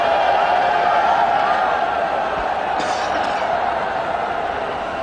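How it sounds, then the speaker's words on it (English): Crowd noise from a packed cricket stadium during an India versus Australia Twenty20 match at Brabourne Stadium, a steady, broad roar of spectators that holds throughout. "Great crowd in. And they're loving every bit of it."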